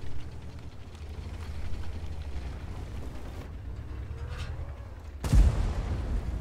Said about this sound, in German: Also die Kanone hat einfach so einen geilen Sound.